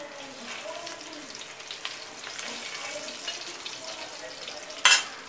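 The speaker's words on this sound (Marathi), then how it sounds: "आता आपण हे बांगडे फ्राय करून घेणार आहोत।" Bangda mackerel fries in garlic-flavoured oil with a steady, soft sizzle and crackle, faint and even throughout, with a brief sharper spatter or scrape near the end.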